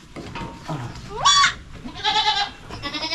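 Goats bleat several times close by, short wavering cries with quiet rustling between them.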